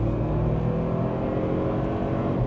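A Toyota 4Runner TRD Pro with a 4-cylinder engine accelerating in sport mode, a steady loud engine drone heard from inside the cabin with no talking.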